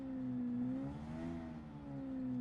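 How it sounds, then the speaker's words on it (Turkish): A car engine in the PUBG video game hums steadily at moderate distance, its tone rising slightly and falling back as it drives, with no talk over it. "böyle arabanın sesini duyuyor mudur acaba?"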